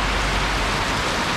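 Heavy rain falls steadily at a roadside rest stop during a nighttime motorbike trip near Bảo Lộc, producing a dense, unbroken roar of downpour with no voices.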